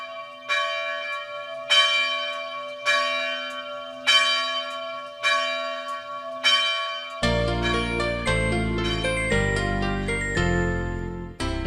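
A church bell in Soria, Spain, rings in slow, steady, resonant strikes, each one left to decay. A fuller, overlapping peal of bell tones then takes over and continues to the end.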